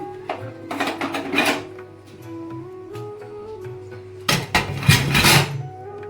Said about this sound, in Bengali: এখন আমি গ্যাসটা ধুয়ে নিব।